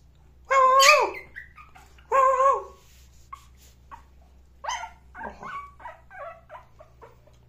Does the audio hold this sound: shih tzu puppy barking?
yes